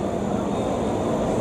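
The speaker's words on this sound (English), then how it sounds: "Here's our plane" A passenger airplane passes overhead near an airport in Portugal, a loud, steady broadband engine roar filling the whole moment without a break.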